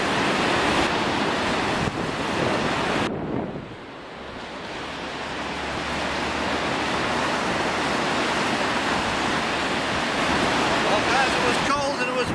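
Strong wind buffets the microphone over a broad roar of surf, easing briefly before building back up, loud and constant with no voices.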